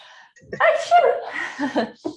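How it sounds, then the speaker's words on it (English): A close, slightly stifled sneeze with a breathy build-up, followed by a few short sniffs and breaths. "I gotta sneeze"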